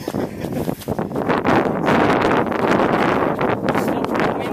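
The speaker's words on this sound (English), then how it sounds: "Still pretty windy." Strong wind buffets the microphone on a misty, muddy coastal trail during the Rodeo Beach 50k, a loud continuous rushing roar that gusts and swells with no clear voices.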